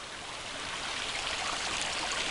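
Snowmelt water rushes steadily over a dam, a continuous broad hissing flow heard close and alone.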